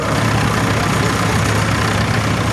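An International 55 Super MDB diesel tractor engine runs with a loud, steady, continuous rumble at a tractor show, with no pauses or changes in pace.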